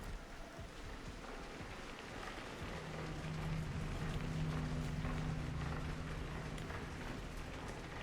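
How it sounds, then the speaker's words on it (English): Rain patters steadily at low volume in the video game Routine, joined partway through by a low droning hum that lingers under the shower. "Oh, it's raining!"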